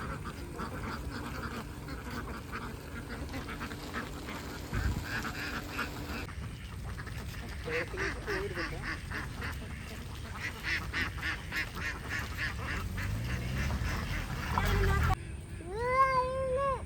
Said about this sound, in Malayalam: ഒരുപാട് താറാവുണ്ട് ഗൈസ് ഇവിടെ